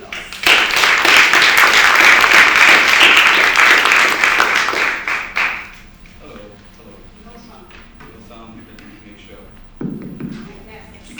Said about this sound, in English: let's welcome our panelists with a big round of applause